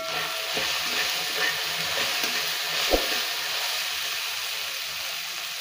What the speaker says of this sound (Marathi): कांदा आणि टोमॅटो तेलामध्ये मस्तपैकी झालेला आहे। आता यामध्ये घालणार आहे मी चवीनुसार मीठ। त्याला छान फिरवून घेऊ।